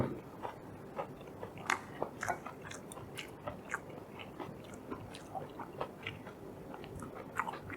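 Close, steady chewing of food while eating, with soft crunchy bites and wet mouth sounds repeating in an irregular rhythm, no talking.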